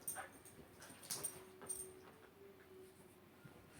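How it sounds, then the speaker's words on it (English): A dog whimpers and yips in a few short, faint, high cries scattered over a quiet indoor background, with no voices. "my dog needs to calm down"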